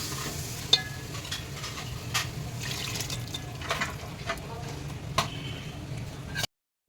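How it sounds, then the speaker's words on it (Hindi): Mutton and chilies fry in a pan for Burmese khowsuey, making a steady moderate sizzle with occasional stirring clicks and scrapes. The sound cuts to silence at the very end. "ये गोश्त भी डाल रही हूँ ताकि इसके साथ में भून जाएगा"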